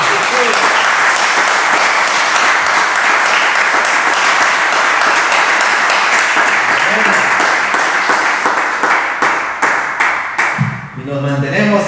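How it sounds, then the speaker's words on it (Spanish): A church congregation at a Sunday celebration service applauds loudly and continuously for about ten seconds, dense clapping filling the room before it tapers off into a few scattered claps. "Dale un aplauso al Señor."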